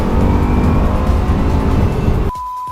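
Bugatti Chiron engine roaring on the Nürburgring Nordschleife, a loud dense drone heard from inside the car that drops away abruptly near the end, leaving a thinner tone.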